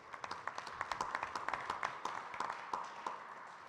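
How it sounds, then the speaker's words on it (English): Scattered applause from a modest audience at a men's forum, the sparse claps loose and uneven, fairly close, with no talk over them. "Can you please give Robert a round of applause?"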